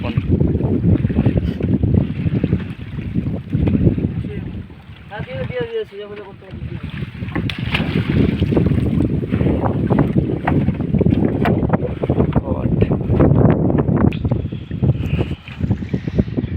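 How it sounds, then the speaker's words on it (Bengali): A small fishing boat rocking on rough, wave-tossed water in strong wind, with heavy continuous wind buffeting, water slaps and creaks, and voices talking over it. "এখন প্রচণ্ড রাফ ওয়েদার নৌকা প্রচণ্ড দুলছে"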